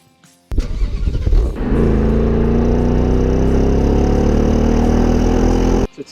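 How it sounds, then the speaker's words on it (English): A powerful 5-litre V8 engine in a Ford Mustang GT fires up with a burst of revs, then settles into a loud, steady, rumbling idle close by before cutting off. "this is a 5-litre V8"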